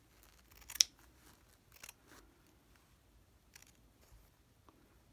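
Small scissors snip stitching threads close to embroidered fabric during slow hand stitching. The cuts are faint and sparse, one sharper click followed by a few light snips and soft rustles in a quiet room.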